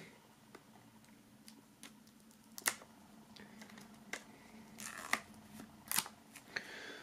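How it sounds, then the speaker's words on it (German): An album box is unwrapped from its plastic foil, heard as scattered faint crinkles, ticks and sharper crackles in a quiet room, with no talking. "Dann werden wir mal das Ganze aus der Folie befreien."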